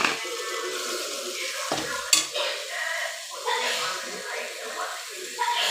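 Chopped tomato stir-fried into cooked-down masala for vegetable biryani sizzles steadily in the pan, with a spoon scraping and stirring now and then and a voice talking over it.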